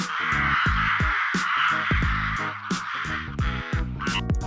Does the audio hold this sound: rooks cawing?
yes